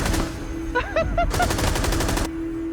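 Rapid bursts of Rainbow Six gunfire crackle through the second half, a fast automatic volley over a steady background hum, with brief tonal chirps just before.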